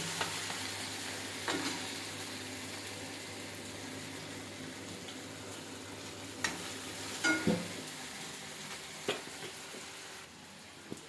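Tomatoes and onions fry in a pan for a dry soyabean gravy, giving a soft continuous sizzle with occasional spoon scrapes and clinks.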